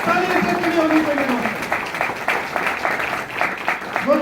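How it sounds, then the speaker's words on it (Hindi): An audience at a business meeting applauds loudly to honour a mentor, with dense clapping running throughout and voices carrying over it. "एक जोरदार धमाकेदार तालियों से खड़ी होनी चाहिए"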